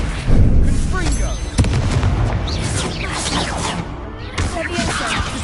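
Fiery explosion spells blast in a wizard video game, a sudden loud burst followed by several more crackling booms and whooshes layered over a dense, continuous din, with a voice speaking among them.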